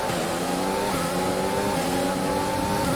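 A Formula 1 race car engine in the F1 2020 video game holds a loud, continuous high-revving whine close up, with steady harmonics throughout. No one speaks.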